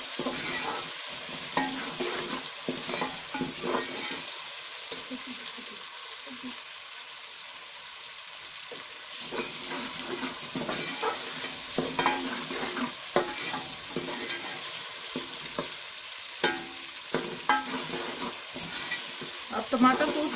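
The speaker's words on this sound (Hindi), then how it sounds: "अब हम टमाटर को भूनेंगे।" Tomatoes frying in a pan for achari aloo, a steady close sizzle with repeated scraping and clinking of a spoon stirring against the pan, with no talking over it.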